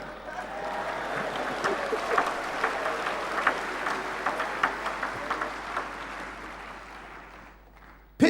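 Scattered audience clapping at a leadership conference in Fiji, fairly soft and uneven, with a few sharper individual claps standing out before it fades toward the end.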